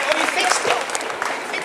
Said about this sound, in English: big applause for Sylvester McCoy